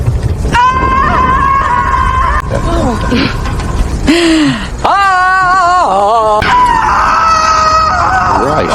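A woman screams loudly in several long, high-pitched bursts with short breaks between them, close and piercing.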